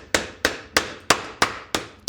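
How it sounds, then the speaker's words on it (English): A hammer repeatedly striking a Hydro Gear zero-turn transmission case, seven sharp, steady blows about a third of a second apart, close and loud with short decays and no talking. "I just go ahead and hit it with a hammer."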